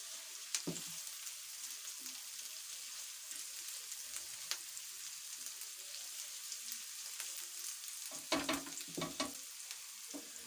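A low, steady sizzle of whole cumin frying in a pan, faint and even throughout, with a few sharper utensil taps and scrapes near the start and again toward the end.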